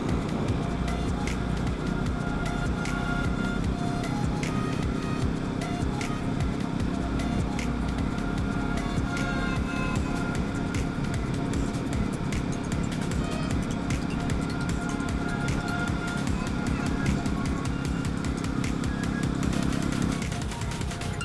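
A motorcycle cruises steadily at moderate speed along Bangalore's Outer Ring Road, its engine humming continuously amid wind and passing traffic noise.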